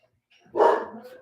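A grown dog gives one close bark that trails off into a short ringing tail, heard alone with no talk.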